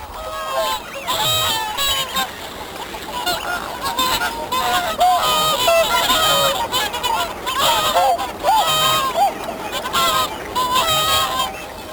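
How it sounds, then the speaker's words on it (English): Wintering swans at Welney call together in a loud, noisy display, with many overlapping honking, trumpeting voices close by that carry on steadily without pause. "Swans are very social birds, and throughout the winter they maintain their bond by noisy display."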